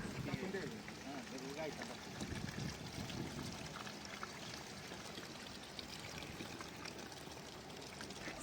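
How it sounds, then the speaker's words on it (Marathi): Water being filled to mix herbicide spray for a weedy farm field, a steady low splashing and trickling running throughout, with voices talking faintly over it. "सगळ्यात आधी पाणी भरून घ्यायचं चालू आहे औषध बनवायसाठी."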